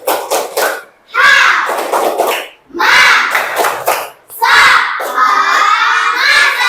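Classroom children doing a rhythmic clapping cheer, loud shouted chanting in bursts with sharp claps between them, the group voices rising and pausing in a patterned call.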